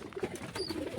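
Pigeons in a loft, a few soft low coos close by over faint background noise, brief and quiet.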